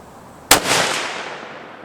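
A single sharp shot from a Savage Axis II rifle in .22-250 cracks out, then a reverberating tail fades away over a second or so, heard clearly with no talking.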